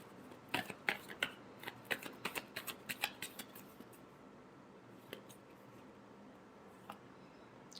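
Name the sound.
shuffling tarot cards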